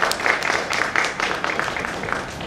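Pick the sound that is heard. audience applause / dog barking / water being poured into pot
audience applause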